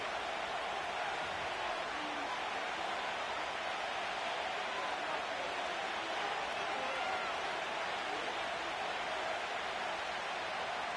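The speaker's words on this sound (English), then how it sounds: "This crowd into it now as we get to third down." A stadium crowd in a Madden football video game roars steadily and densely throughout, a continuous wash of many voices with no breaks, sounding like a large arena during a third-down play.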